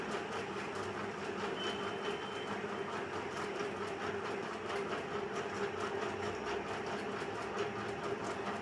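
A sewing machine stitching the cup of a size 40 double-cup blouse, a fast, even mechanical whirr and clatter running continuously and steadily throughout, fairly faint.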